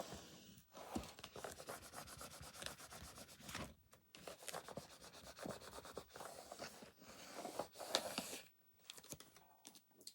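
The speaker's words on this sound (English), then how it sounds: "you're going to get your scraper again and just flatten everything down" A scraper rubs and scratches over paper in a protected page, pressing it flat with repeated close, faint strokes broken by short pauses.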